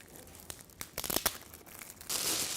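Paper gift wrap being torn open and crumpled, with a run of sharp rips and crinkles building to a steady, loud rustle at the end, no talking.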